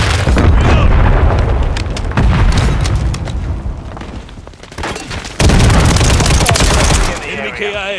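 Semtex and flashbang grenades go off in Call of Duty MWIII among heavy gunfire, with loud booming blasts and dense rattling shots during a multiplayer match.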